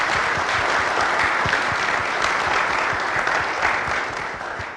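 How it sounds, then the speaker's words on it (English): Sustained applause from a conference audience for a panel at a commercial development forecast event, steady and dense throughout before easing slightly at the end. "let's give our panel a round of applause as well"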